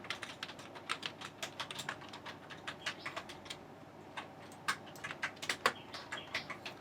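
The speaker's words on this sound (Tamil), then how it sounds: "இப்போ இந்த கீபோர்ட் லேஅவுட்டை நான் ஓப்பன் பண்ணி வச்சுக்கிட்டே உங்களுக்கு டைப்பிங் காட்டுறேன்" Someone typing on a computer keyboard while entering Tamil text in Adobe Photoshop: rapid irregular key clicks, close and fairly quiet, in uneven bursts over a faint background hum, no talking.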